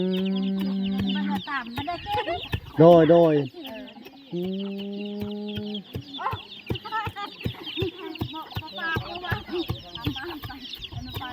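Hens and a rooster cluck and squawk close by in a rural Lao village, with several loud drawn-out calls early on, then scattered clucks under intermittent talk.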